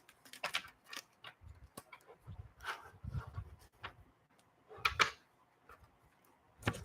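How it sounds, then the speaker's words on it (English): Decks of playing cards are shuffled close by in short, irregular bursts of crisp riffling clicks separated by brief pauses. "I'm just shuffling these decks that I have"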